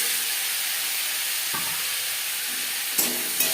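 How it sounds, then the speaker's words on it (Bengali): Tender drumstick pieces added to a pan of frying bitter gourd, a continuous loud sizzle and hiss with a few soft knocks as pieces drop in and are moved, no talk. "3-4 মিনিট ভেজে নেওয়ার পর দিয়ে দেবো সজনে ডাঁটা"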